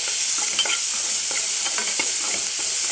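Onions frying in oil in a pan for a grandmother-style mutton fry, with steady close sizzling and repeated scraping and stirring strokes throughout.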